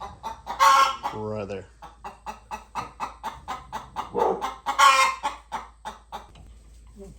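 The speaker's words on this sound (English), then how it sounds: "Chicken laying an egg" A hen clucks loudly in a steady, rhythmic string of calls while laying an egg, with a brief spoken phrase near the end.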